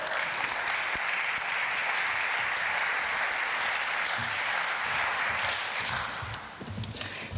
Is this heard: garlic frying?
no